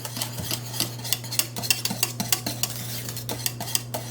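A whisk beats bechamel sauce in a pan, quick rhythmic metallic clicks and scrapes against the pan over a faint sizzle, close by.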